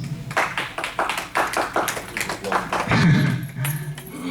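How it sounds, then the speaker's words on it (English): Applause for newly elected members at a village board of directors meeting, a small group clapping in uneven, distinct claps that thin out toward the end, with a low voice rising near the close. "please give them all a round of applause"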